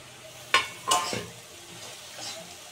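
Dry fruits are tipped into cooked dates and jaggery in a pan, with two quick scraping, rustling stirs early on and then a faint, quiet cooking background. No talking.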